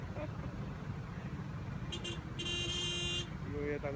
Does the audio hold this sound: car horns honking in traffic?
yes